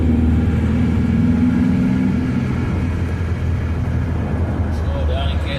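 A Ford Zephyr V4 car accelerates in top gear from around 49 mph, its steady mid-pitched engine drone and road rumble heard from inside the cabin, loud and continuous throughout.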